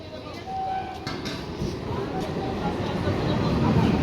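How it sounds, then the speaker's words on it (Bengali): A Bongaon–Canning local train arriving at Barasat Junction, its rumble building steadily and growing louder toward the end, with platform noise and people talking nearby. "ও এবার ট্রেন আসছে।"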